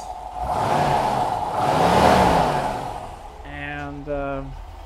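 A Rover V8 car engine revs up twice in long swelling roars, close and loud, then a voice speaks briefly as the engine settles.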